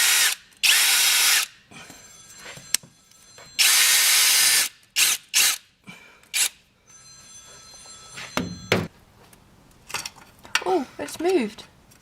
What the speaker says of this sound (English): I'm going to try and put a tech screw in it so I've got something to actually pull on